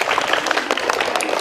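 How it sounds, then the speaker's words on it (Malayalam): Schoolchildren clap together for a classmate's correct answer, a quick burst of loud, uneven hand claps close by in a classroom. "റിസക്ക് ഒരു ക്ലാപ്പ് കൊടുത്തേ"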